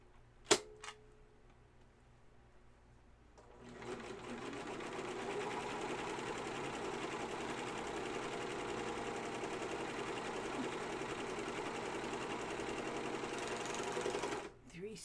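Serger stitching along the sides of a fabric pocket for a project bag, starting after a few seconds of quiet handling and then running steadily and loudly until it stops near the end.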